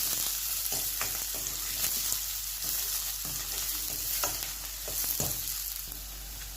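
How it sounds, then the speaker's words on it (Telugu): Chopped onion and green chillies fry in a pan for a jowar flour soup, giving a steady, close sizzle with occasional stirring scrapes and no voices over it. "ఆనియన్ పచ్చిమిర్చి ఇది కొంచెం ఫ్రై చేసుకోవాలని"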